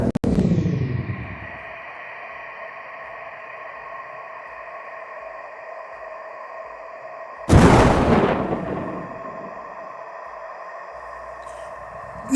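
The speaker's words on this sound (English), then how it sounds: "Get the drone with the stun grenade." A stun grenade thrown from a drone goes off in a sharp, loud blast partway through, set against a steady droning background hum, with another abrupt burst at the very end.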